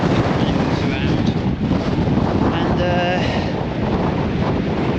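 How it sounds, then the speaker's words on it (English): Strong wind roars across the Blackpool seafront promenade, a constant heavy buffeting rush battering the microphone with no letup, and a person talks briefly under it. "There was actually a lot of wind like this"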